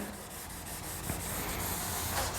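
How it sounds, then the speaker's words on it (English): Steady, close scratchy rubbing of guide coat along a body line on a 1950 Chevy truck, a continuous sanding-like hiss with faint rhythmic strokes and no talking. "I'm just rubbing that and holding it where it doesn't roll over the corner"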